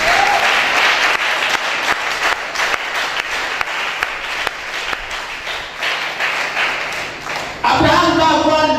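A church congregation applauds in sustained, dense clapping that fills the room, with a voice speaking over it and a brief shift near the end.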